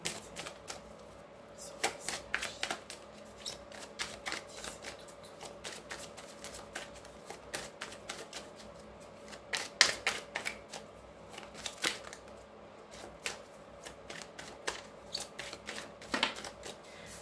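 Tarot cards shuffled by hand in a steady run of crisp riffling flicks and soft slaps, close and fairly quiet, continuing without talk.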